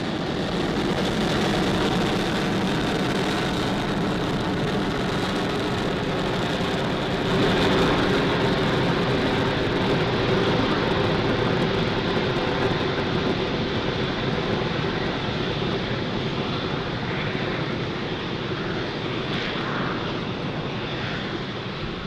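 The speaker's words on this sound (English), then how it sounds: "Falcon 9 has successfully lifted off from Pad 40 at Cape Canaveral Space Force Station" A SpaceX Falcon 9 rocket climbs after liftoff from Pad 40 at Cape Canaveral, its engines a steady, distant broadband roar that swells slightly midway and then slowly fades.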